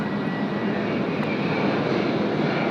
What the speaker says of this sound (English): That was Air Callan flying overhead here while I'm trying to get everything sorted.